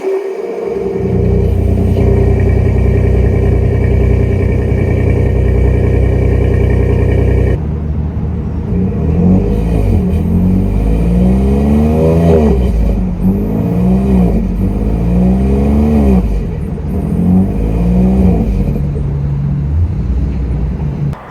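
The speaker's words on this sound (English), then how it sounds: "But now we'll take a listen to this PowerBoost engine." A 2023 Ford F-150 with the 3.5L PowerBoost hybrid engine idles steadily, then revs up and down in several rising surges, loud and close with no voices.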